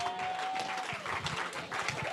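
Applause and cheering from a church congregation, a steady dense wash of clapping with voices mixed in and a sustained tone running beneath.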